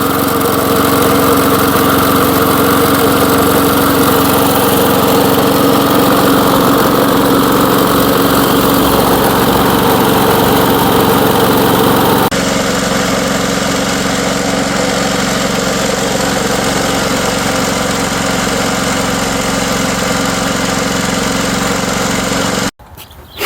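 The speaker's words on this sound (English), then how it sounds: "This little JCPenney lawnmower, she doesn't run too bad for a 1982, does it?" A 1982 JCPenney lawn mower engine runs loud and steady at close range. Its drone shifts tone partway through, then it cuts off abruptly near the end.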